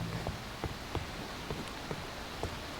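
Heavy rain falls steadily on a newly built storage shed, a dense, even hiss with occasional louder drop impacts, fairly close and with no talking.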